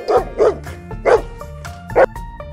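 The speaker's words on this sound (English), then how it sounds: "Dog. Loyal and friendly." A domestic dog barks and yips in four loud, close bursts with short gaps between them, set over a low, steady musical backing.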